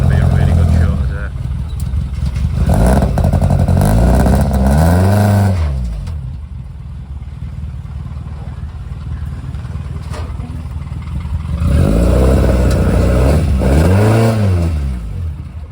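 Classic motorcycle engines rumble and rev loudly nearby at the Saltburn-by-the-Sea classic hill climb, rising and falling in pitch, with voices and crowd noise mixed in.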